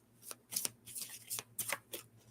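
Oracle cards are shuffled by hand in a series of quick, crisp riffling bursts, several rapid flutters separated by brief pauses, close and moderately quiet.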